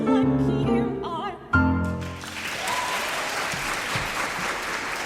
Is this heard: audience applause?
yes